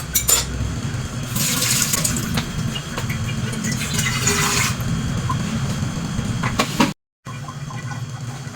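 Water and second-extract coconut milk pour into a cooking pot, a sustained splashing stream with brief surges and clanks of the pot, ending in a short gap and quieter stirring sounds.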